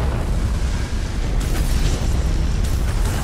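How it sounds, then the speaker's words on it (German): Dense rumbling explosions in Elder Scrolls Online, loud and continuous, with a couple of sharper bursts standing out from the roar. "Warum welche Sachen explodieren hier?"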